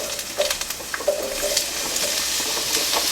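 Portobello mushrooms sauteing in a skillet give a steady, moderate sizzle with scattered light crackles and a few stirring scrapes, close and continuous with no talking.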